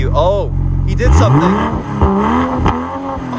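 A 2022 BMW M240i in sport mode revs its engine hard in a few rising and falling surges, loud and close, with a person speaking briefly over it.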